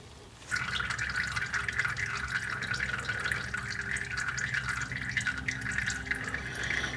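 Engine oil pours steadily from a tractor's drain into a catch pan, a continuous trickling, splashing liquid stream that starts abruptly and runs on without pause, close and fairly loud.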